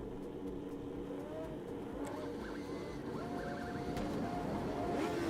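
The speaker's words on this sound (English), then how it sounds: "They got like a starter sound for the car" A Ford Escort's starter whirs in the Assetto Corsa Competizione racing video game, a soft cranking and motor hum with light mechanical tones that builds slightly toward the end, fairly quiet.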